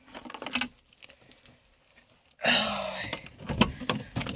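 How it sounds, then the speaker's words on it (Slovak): A bunch of motorcycle keys jangles and clinks in a few bursts, with a loud rustling handling noise partway through, close by and with no talk. "Tu sú kľúčiky."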